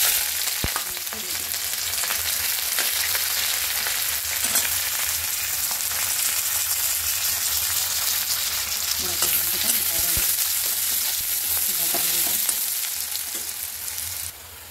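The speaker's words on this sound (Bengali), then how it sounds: "কড়াইতে তেল গরম হয়ে গেছে। এবার পেঁয়াজ লঙ্কা কুচি" Onion and green chilli frying in hot oil in a kadai make a steady, loud, close sizzle throughout, with occasional stirring scrapes and no talking.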